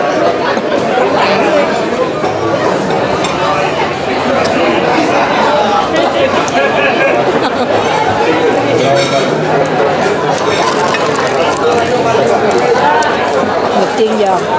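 Crowded Vietnamese restaurant in America, a loud, continuous wash of overlapping chatter from many diners, with nearby voices talking over it throughout.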